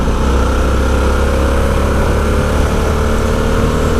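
A Harley-Davidson Sportster S motorcycle engine roars steadily while riding, a loud continuous drone mixed with heavy wind rush and no pauses.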